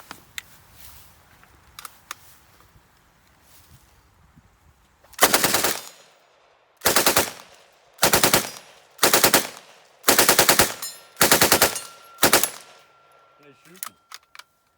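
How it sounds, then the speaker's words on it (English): A full-auto Sten Mark II submachine gun rips off seven loud bursts at a shooting range, each lasting about a second with short gaps between, after quieter handling and shuffling noises. "So we're going to be shooting the full auto Mark II Sten."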